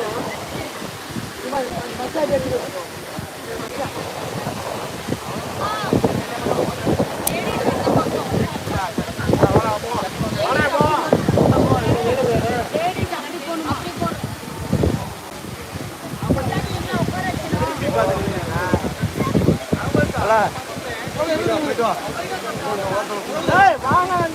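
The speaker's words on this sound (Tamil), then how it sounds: "அருவியோட வியூ கம்மியாக தான் தண்ணி உள்ளது" Courtallam waterfall running with a low flow of water, heard as a steady broadband roar with wind buffeting the microphone throughout and faint voices in the background.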